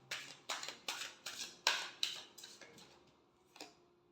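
Tarot cards being shuffled by hand, a series of about nine soft, rhythmic riffling flicks close to the listener, fading out with one last quiet snap.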